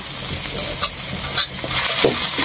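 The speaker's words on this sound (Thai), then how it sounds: "คั่วจนแห้งนะคะ" Pork is stir-fried in a pan until dry, a steady close sizzle with continuous scraping and stirring of the meat throughout.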